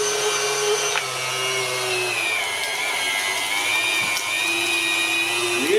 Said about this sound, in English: So we turn the KitchenAid, the mincer, the KitchenAid to 10